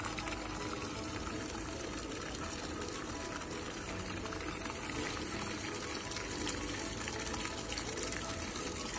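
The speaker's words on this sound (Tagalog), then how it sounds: "Yan kami kukuha ng tubig." Water gushes steadily into a container as it is fetched, a loud, continuous rushing that fills the whole stretch with little change.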